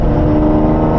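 A Jaguar F-Type R sports car's engine roars loudly and steadily up close as it passes, a deep rumbling growl filling the brief moment.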